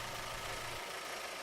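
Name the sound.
Suzuki Forenza car engine idling during oil flush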